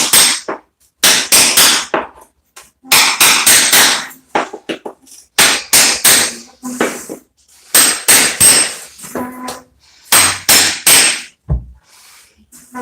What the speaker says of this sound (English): I'm thinking maybe I could just take this chisel